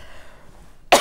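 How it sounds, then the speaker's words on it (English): A single sharp cough bursts out at the very end after near silence, close and loud, from a woman presenting a sewing techniques show. "bear with me if I do have a little cough today"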